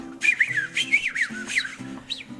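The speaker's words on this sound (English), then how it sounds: "so he had to whistle his dogs" A farmer whistles to call his dogs, a series of shrill, warbling whistles with quick pitch swoops, repeated several times over a low steady hum, on a farm.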